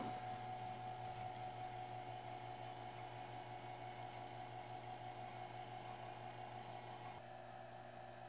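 An OK Products vacuum pump runs steadily alone, a constant close mechanical hum with a whirring motor tone that eases slightly near the end.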